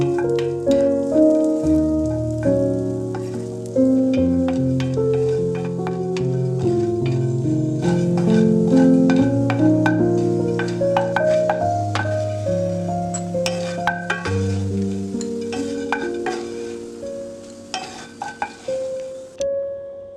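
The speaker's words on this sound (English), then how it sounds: "Add slivered almonds and 4 to 5 garlic slices, and saute them until they turn perfect golden brown." Slivered almonds and garlic slices sizzle in olive oil in a pan, a soft frying hiss with occasional stirring and light clinks, partly covered by a melodic music track playing throughout.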